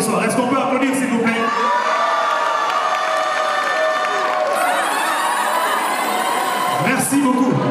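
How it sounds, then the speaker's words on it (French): Beauty pageant audience cheers and applauds while a musical backing rings through, loud and sustained with whoops and shouts rising above the crowd. "Est-ce qu'on peut applaudir, s'il vous plaît?"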